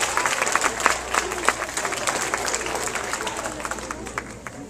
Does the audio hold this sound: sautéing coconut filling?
no